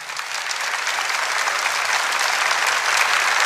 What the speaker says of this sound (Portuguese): Aplauda isso, porque é fato.